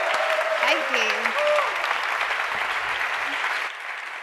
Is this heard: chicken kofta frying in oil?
no